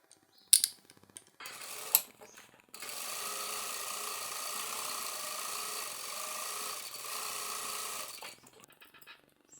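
A sewing machine stitches a straight seam on a sleeve, running in one steady mechanical whir for about six seconds after a few short clicks, then stops.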